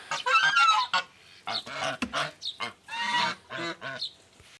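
Several geese honk loudly and repeatedly nearby, harsh nasal calls in uneven bursts with short pauses between them.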